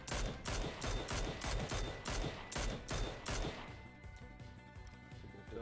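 Rapid bursts of automatic gunfire in a shooter video game, loud and close, firing in a steady rhythm of repeated volleys for about four seconds before dropping to a quieter rumbling background.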